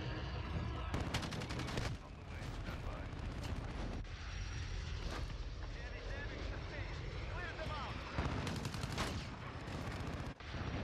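Automatic weapon fire with white-light tracer rounds in the shooter game Call of Duty: Modern Warfare, heard as dense bursts of rapid shots over a busy battle mix with aircraft noise and a voice talking throughout.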